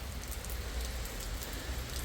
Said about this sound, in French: il va pleuvoir une bonne partie de la journée